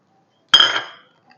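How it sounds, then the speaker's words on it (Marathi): Niger seeds tipped into a heated iron pan make a single short, bright rattling patter that fades within half a second, surrounded by silence. "आपण ही कारळे घालू याच्यामध्ये"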